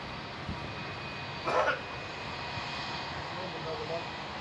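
A Qantas airliner landing at Melbourne Airport produces a steady, distant jet engine rumble heard at a moderate level, with a brief louder rush in the middle and faint voices in the background.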